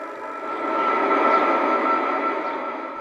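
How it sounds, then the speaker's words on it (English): A General Motors diesel locomotive, a derivative of the DDA-35 class numbered 7826, hauls an ore train with a steady engine drone and a sustained tonal hum that swells in the middle and eases slightly toward the end. "Our locomotive is number 7826 Double Clyde, a General Motors derivative of the DDA-35 class."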